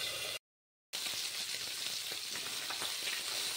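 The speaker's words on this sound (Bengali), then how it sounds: "এভাবে মাছগুলোকে আমি ভেজে নেব। কারণ জানো মাছ খুব ফোটে, তাই আমি ঢাকা দিয়ে ভেজে নিচ্ছি।" Fish frying in oil under a lid in a covered pan, a steady dense sizzle with crackling spits running throughout, close and fairly loud, broken by one brief silent gap near the start.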